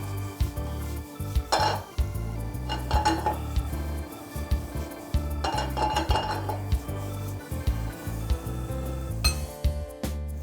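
Metal utensil clinking and scraping against a pan while vegetables are sautéed in olive oil with garlic, salt and pepper, a steady run of clattering strikes with a faint sizzle underneath.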